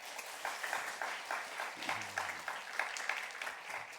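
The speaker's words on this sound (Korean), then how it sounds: "여러분 박수 한번 하겠습니다" An audience at a university chapel service claps steadily to welcome a guest pastor. The applause is moderate, even and sustained throughout, with no one speaking over it.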